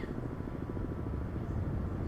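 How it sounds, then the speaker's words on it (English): In the submarine game Cold Waters, a nearby helicopter produces a steady low rotor thrum with faint chopping pulses, continuous and moderately loud, with no voices over it. "the helicopter's still nearby"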